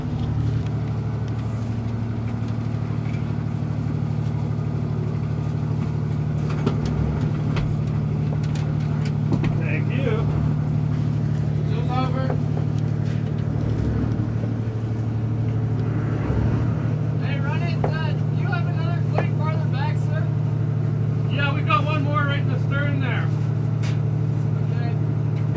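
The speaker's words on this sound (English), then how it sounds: "A big old boat." A big boat's engine hums in a steady, low drone as it docks at Newport, Oregon, with crew voices calling out over the constant rumble.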